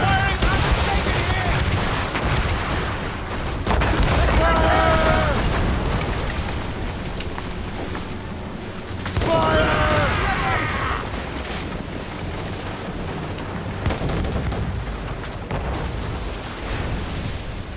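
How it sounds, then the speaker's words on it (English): Ship mortars in Assassin's Creed Rogue fire in heavy, booming bursts around 4 and 9 seconds, with rumbling naval battle noise throughout and shouted commands over the din. "Ready those mortars, Shay."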